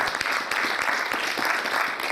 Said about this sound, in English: I think For Life deserves a round of applause for that.